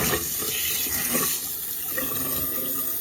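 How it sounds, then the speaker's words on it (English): Water rushes steadily through a DIY aquarium siphon tube, a continuous gurgling flow with no talking. "now the water is going through here"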